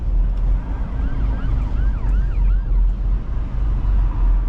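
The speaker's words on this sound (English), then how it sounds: "I hear police sirens somewhere" Distant police sirens wail faintly with rising and falling sweeps over a steady low rumble of traffic, with no talking.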